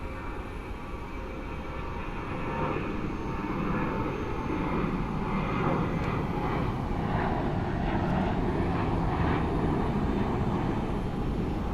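A Spirit Airlines airliner flies past, heard as a steady, broad jet roar that swells slightly and stays loud and continuous throughout, with no talking.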